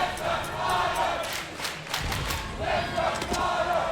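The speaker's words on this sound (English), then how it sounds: "Crowd continues to get behind them." An esports grand-final crowd at a gaming tournament roars and chants continuously at moderate distance, with a commentator's voice running over the din.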